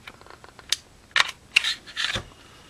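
Several small sharp metallic clicks from a Taurus PT840 pistol takedown lever being worked and released, close and quiet, spaced irregularly with a slightly louder cluster near the end.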